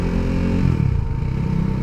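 A KTM motorcycle runs with a loud, close, rumbling engine that holds steady through the short stretch of riding.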